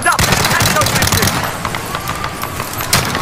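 Rapid automatic gunfire and bursts in the shooter video game Call of Duty Modern Warfare, loud and close for the first second and a half, then thinning to scattered shots under a player's talk.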